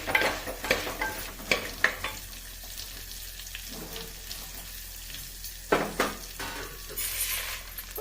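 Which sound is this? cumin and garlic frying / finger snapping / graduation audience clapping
cumin and garlic frying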